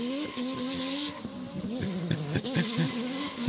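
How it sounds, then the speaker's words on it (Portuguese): A drift car at a festival event roars and squeals in a loud, wavering burst, engine pitch sweeping up and down while tires skid, with faint crowd noise underneath. "Esse que é um motor 4 cilindros pelo ronco, né?"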